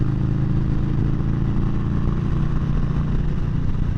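A Harley-Davidson motorcycle cruising along a highway, its engine giving a steady, loud, low rumble mixed with wind noise, unbroken for several seconds and with no voices.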